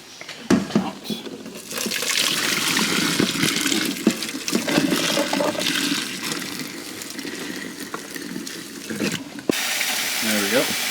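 Hot egg-boiling water poured out of a pot into a kitchen sink, a steady loud splashing gush lasting several seconds with a short pause near the end.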